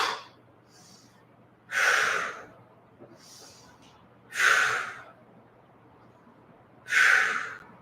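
Heavy, forceful breaths during a stretching exercise come close and loud, in three sharp, hissing bursts spaced a few seconds apart, with softer breaths between them.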